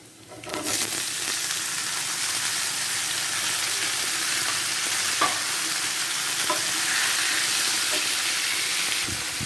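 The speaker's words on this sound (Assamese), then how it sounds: "যেতিয়া আধা হৈ যাব ইয়াত মই এতিয়া এড কৰিম টমেটোখিনি।" Tomatoes tipped into a pan of hot oil with half-cooked onions and dry spices for a sweet tomato chutney, a steady loud sizzle and hiss with occasional stirring scrapes and clinks running throughout, no talking.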